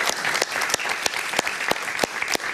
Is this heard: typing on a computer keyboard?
no